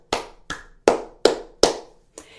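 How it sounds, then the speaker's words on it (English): Palm-to-palm hand clapping, six sharp separate claps in an even, unhurried rhythm, close and clear with silence between each. "There are 2 ways to clap. One way is just to use our palms."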